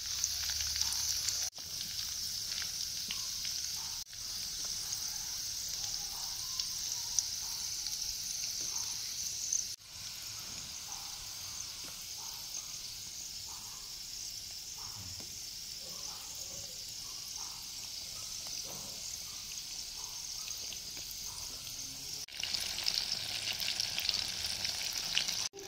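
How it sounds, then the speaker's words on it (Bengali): Ripe-banana pakoras, Bengali style, fry in hot oil in a kadai with a steady, soft hiss and fizz that runs unbroken and fairly faint throughout, with no talking. "তেলটা গরম হয়ে গেছে। এবং পকোড়াগুলো দিয়ে দেব।"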